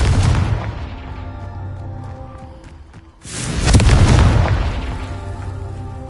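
Two heavy booming blasts from the Confringo spell in Hogwarts Legacy, the first rumbling and decaying, then a sudden louder deep explosion after a short lull, with a long rolling tail.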